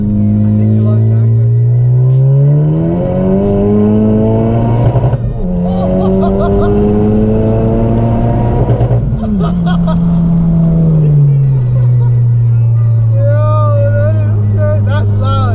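A Honda Type R fitted with an open downpipe exhaust revs loud and close, its engine note sweeping up and down through several long rising and falling pulls while people talk over it.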